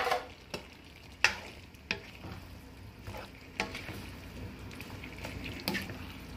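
Squash (kalabasa) tipped into a pan of pinakbet with string beans and stirred, soft sizzling under a string of sharp spatula scrapes and clacks against the pan, close but fairly quiet.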